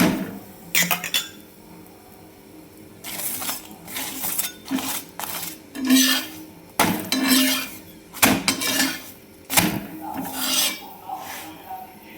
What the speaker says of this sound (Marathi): आता लागले भांडी घासायला मी भांडी घासून घेते